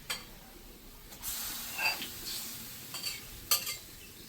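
Aair river fish sliding into a hot pan, with soft sizzling and a few stirring scrapes, quiet and close, rising in short bursts with no talk.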